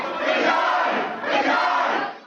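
Protesters crowd into a council chamber public gallery during a meeting against cuts, making a loud, continuous roar of massed voices and shouting that swells twice.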